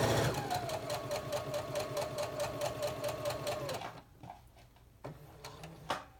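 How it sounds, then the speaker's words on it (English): Sewing machine stitching fabric along the inset corner of a Presto Tunic, a steady rapid mechanical chatter for about four seconds, then stopping, followed by quiet with a few soft handling clicks. "We're going to sew right down to that marking."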